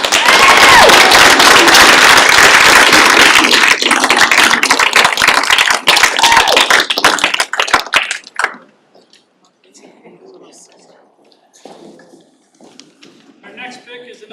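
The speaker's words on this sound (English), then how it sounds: "a huge round of applause for Sam" Loud, dense applause fills a hall at a youth apprenticeship signing day celebrating a student, holding steady for several seconds before thinning out abruptly into near quiet with scattered faint sounds and soft voices.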